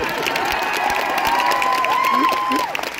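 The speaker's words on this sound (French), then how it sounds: "On l'applaudit bien fort." A lively crowd cheers and claps for a few seconds at a cosplay contest at Japan Expo 2024, with whoops and shouts mixed into steady applause.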